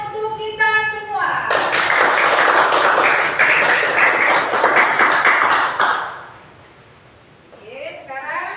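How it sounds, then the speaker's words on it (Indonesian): A classroom group applauding together, dense steady clapping that starts abruptly, holds for about four and a half seconds, then fades out, with a voice speaking before and after. "Tepuk tangan untuk kita semua."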